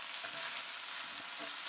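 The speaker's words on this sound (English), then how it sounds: "You just hear it sizzle." Beef liver and fried potatoes sizzle in a pan with melted cheese on top, a close, steady crackling hiss with no talking.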